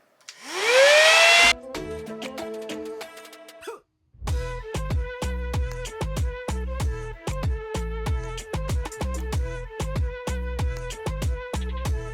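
A hair dryer on its high, hot setting blows across a curly wig in a loud, steady rush for about a second and a half. It cuts off, and rhythmic music with a steady beat takes over.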